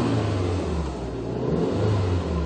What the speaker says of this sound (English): So she revs freely, sounds fantastic.